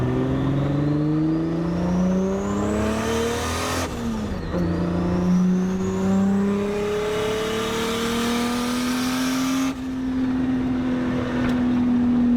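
A Datsun car pulls hard through its gears. The engine drone climbs steadily in pitch, drops sharply at two gear changes, then rises again in fourth gear at speed, loud and close from inside the car.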